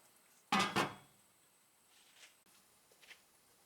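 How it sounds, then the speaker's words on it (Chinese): A lid set onto a wok while sweet peas and diced chicken stir-fry at home: two sharp, close metallic clanks in quick succession, then near quiet with a few faint clinks. "我们现在盖上锅盖咯"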